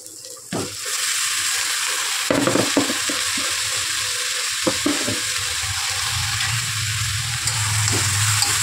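Sliced ridge gourd hits onions in a hot pan and fries with a steady, broadband sizzle, close and continuous. Occasional clatters and stirring knocks break through.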